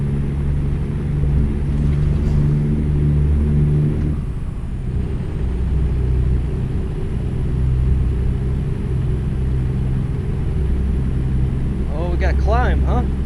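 A heavy truck engine in American Truck Simulator drones steadily with a loud, low rumble throughout while driving, and a voice briefly cuts in near the end.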